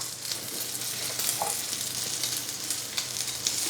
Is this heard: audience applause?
no